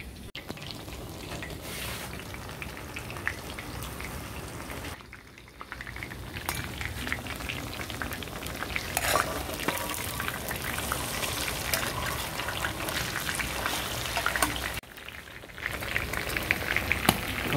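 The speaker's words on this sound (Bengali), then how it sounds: "এটা মেরিনেট চাপ, এটা ফ্রাই করবো এখন আপ ডাউন।" Marinated chaap frying in homemade mustard oil at a restaurant, heard as a steady close sizzle with crackling spatters that swells and briefly dips as the pieces are turned.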